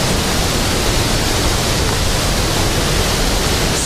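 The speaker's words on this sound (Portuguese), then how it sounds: "Escutem aí o barulho das águas." Water of the Pedra da Ferida waterfall, running high with plenty of flow, pours in a dense, loud, unbroken rush close by with no other sounds.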